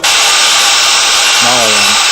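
An electric drill mixer stirring PTi paste in a bucket gives a loud, steady high whine that fills the whole stretch, with a brief voice under it near the end.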